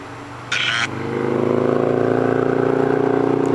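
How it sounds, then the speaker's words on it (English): A motorcycle approaches on a Topanga Canyon road. A short noisy burst comes first, then the engine's steady buzzing drone swells and grows louder as the bike draws near, with no talking over it. "Here comes a motorcycle."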